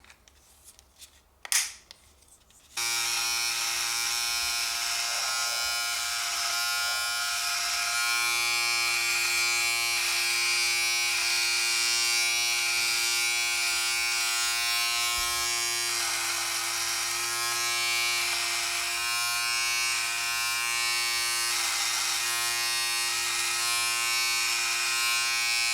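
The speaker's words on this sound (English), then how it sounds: "Let's continue with the second test, trimming my beard with the" A Philips Norelco All-in-One Trimmer 3000 fitted with a 7mm comb trims a beard. After a brief handling clatter, a steady, loud, close electric buzz runs without a break.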